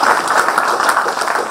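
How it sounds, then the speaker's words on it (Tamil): Audience at a health talk on cooking oils breaking into applause, a dense, even patter of many hands clapping at once, fairly loud and sustained with no voices over it. "இது ஒரு கைத்தட்டு தட்டணும்."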